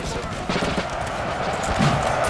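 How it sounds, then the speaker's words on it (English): Artillery and howitzers firing in a Napoleon Total War battle at Lodi, 1796, dense rumbling booms and crackling musketry blended into a loud, continuous battlefield roar. "My gosh, artillery going off there. Beautiful howitzers."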